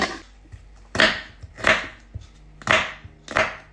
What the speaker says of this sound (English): You just want to cut them into strips, okay?